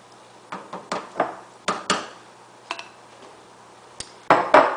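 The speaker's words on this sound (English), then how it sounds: "I'm going to stir everything together." A spoon knocks and scrapes around a pot of barley soup with beans and herbs, a series of irregular close clinks and taps with short pauses, louder strikes at the end.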